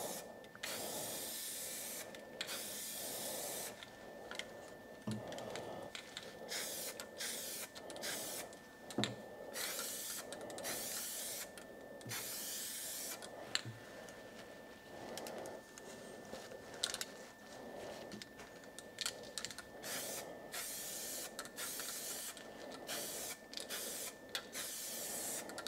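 Spray paint is applied from an aerosol can onto a Volvo V70 part, a steady hiss broken by many short bursts and pauses, fairly faint and close, with occasional small clicks and knocks.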